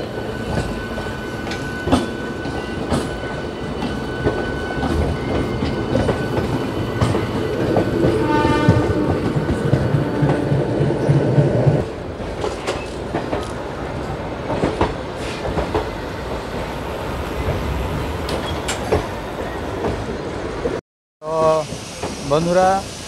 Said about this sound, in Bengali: আজকের ভিডিওটা হচ্ছে হাওড়া থেকে সাতরাগাছি থেকে মুম্বাই ট্রেন জার্নি